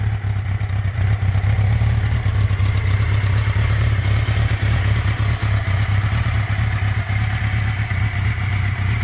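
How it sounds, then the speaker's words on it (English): A 1982 Suzuki GS650E motorcycle, 673 cc engine, idles close by with a steady low exhaust burble and mechanical clatter, even and continuous with no voices. "Nice exhaust note."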